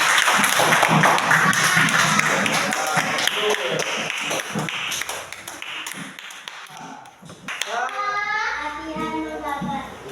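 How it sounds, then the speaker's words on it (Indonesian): A classroom of children in an Islamic religious studies lesson claps, a burst of patter that fades as children's voices take over near the end. "Oke, tepuk tangan semuanya."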